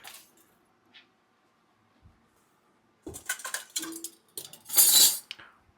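Metal dishes and bowls clatter and clink as they are gathered on a workbench where silver shot is being weighed, in several close bursts after a few seconds of near silence.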